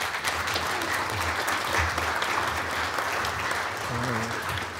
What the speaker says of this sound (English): I think we should welcome her with your applause.